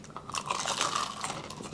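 Crunchy food such as chicharon is bitten and chewed during a Filipino family mukbang, giving a close series of crisp crunches and chewing sounds over about two seconds, with no talking.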